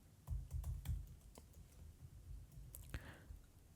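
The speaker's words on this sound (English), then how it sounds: "let me type in my password" Fingers type a password on a Mac computer keyboard: a quick burst of close, crisp key clicks, then a few scattered taps and a firmer final keystroke, with no talking.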